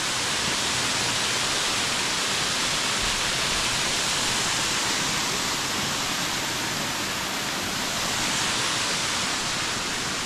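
A waterfall at a gorge along the Gibb River Road in Western Australia pours with a constant, dense rushing roar, loud and unbroken throughout, with no talk over it.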